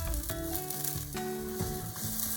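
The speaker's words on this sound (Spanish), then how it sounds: "cuando esté caliente agregamos la parte blanca de la cebolla, el ajo y el jengibre" White part of onion, garlic and ginger sizzle in hot sesame oil for vegan miso ramen, a steady crackling fry under soft background music, with no voices.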